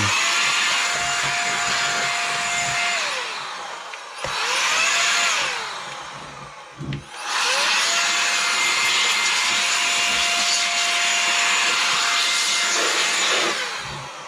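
Compressed-air duster blowing dust out of an Acer Aspire 5560 laptop: loud steady hissing bursts, a long one, a shorter blast, then another long spray, each with a whining tone, close up with no talk.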